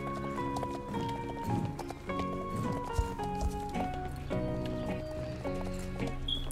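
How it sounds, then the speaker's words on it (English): Horses in a video game, steady hoof clip-clop and whinnies under continuous music-like tones throughout, moderately loud and blended with the game soundtrack. "You hear it, the horses."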